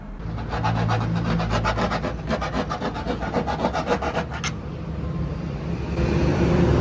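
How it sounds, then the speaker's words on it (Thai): A hand file rasps on a part of a Honda City during a wiring job, with quick regular back-and-forth strokes, close and loud, slowing and fading out near the end. "เสร็จแล้วทีนี้เราก็ทำการตะไบกันครับ"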